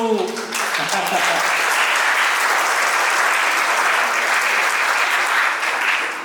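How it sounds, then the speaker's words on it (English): An audience in a hall breaks into loud, dense clapping that holds steady throughout, with a brief voice at the very start before the applause takes over. "Another clap"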